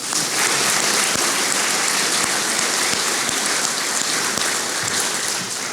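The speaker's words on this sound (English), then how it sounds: "One more round of applause." Sustained audience applause at the City of Spokane Valley 2022 State of the City event, a dense, steady wash of many hands clapping at full strength throughout, with no talk over it.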